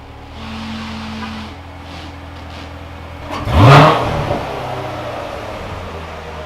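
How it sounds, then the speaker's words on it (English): A 2019 Corvette ZR1 engine fires up with a brief starter whir and a sharp rev burst, then settles into a low, steady idle rumble close by. "Gonna start up the car"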